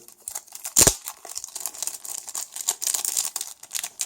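Packing tape and wrappers rip sharply as Clash Royale card packs are torn open, one loud tear near the start followed by repeated crinkling and scratchy paper handling close up, with no talking.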